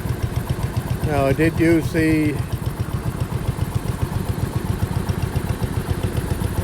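A 1970 John Deere 140H3 garden tractor engine runs at a steady close idle, a rapid rhythmic chugging throb that continues throughout, while someone talks over it early on.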